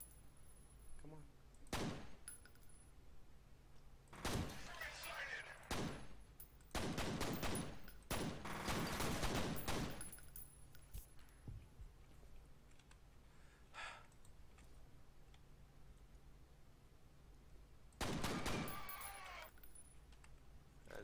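Gunfire in the F.E.A.R. shooter game comes as several sharp bursts of rapid shots, loud and clustered early, then quieter pauses before a final volley, with a player's voice talking between shots.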